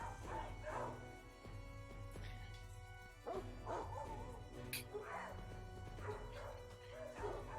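A person imitating a dog, giving a few yipping barks and whimpers with a tabletop roleplaying group, faint and low, mixed with quiet talk and background hum.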